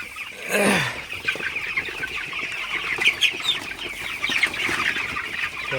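Broiler chickens clucking and cackling nearby, a busy flock with overlapping calls and one louder squawk near the start.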